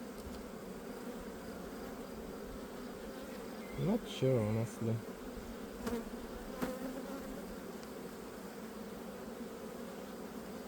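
Honeybees hum steadily at the entrance of a weak hive, a soft continuous drone close by, while a person briefly speaks over it.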